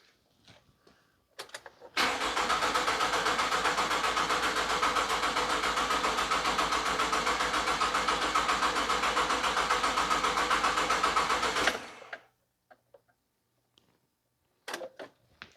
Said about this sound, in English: So I'm going to crank the engine over now.